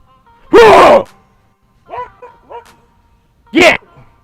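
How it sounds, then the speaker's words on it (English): A dog barks loudly and close by, a sharp bark followed by a couple of softer yips and another loud bark, with quiet pauses in between. "I hear a dog."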